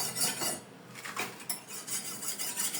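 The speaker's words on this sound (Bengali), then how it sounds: "তোমরাও দেখো আম্মু কিভাবে ধার দেয়" Metal scraping and clinking as a curved boti blade used for cutting fish is sharpened, irregular rasping strokes and light clanks at close range, fairly quiet with no talking.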